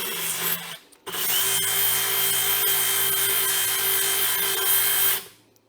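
A DeWalt DCM200 20V cordless bandfile grinds inside a welded tube, a steady, loud motor whine with abrasive rasp running for about four seconds after a brief start and stop, then spinning down.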